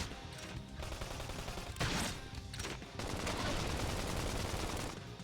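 Gunfire from a gun in the video game Xenoblade Chronicles X rattles in dense rapid bursts, loud and close, with short gaps between volleys and a sustained barrage at the end.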